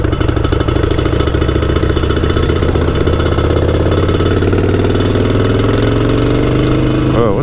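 A motorcycle engine runs steadily and loud throughout while the bike is ridden through city neighborhoods on a holiday ride, its drone shifting gradually in pitch as the rider changes speed.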